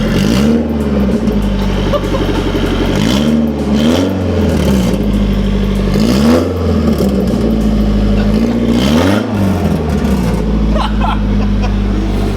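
A Nissan 240SX engine with straight headers revs hard in repeated throttle blips, rising and falling about four times, loud and close with a rough, deep tone over a steady idle.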